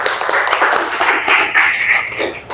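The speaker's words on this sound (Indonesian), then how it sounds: "Tepuk tangan." A classroom group claps after a student answers, a short burst of clapping that stays fairly close and loud for a couple of seconds before tapering off.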